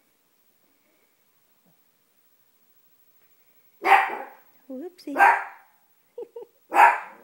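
Several dogs bark in loud, sharp bursts after a silent start, three main barks with smaller yips and growly sounds between them, and a person speaks briefly.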